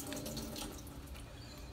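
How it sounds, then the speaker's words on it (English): Hot water is poured into a container over spread-out hot dogs, a faint, steady trickling splash with no talk. "I'm gonna put a little water in here."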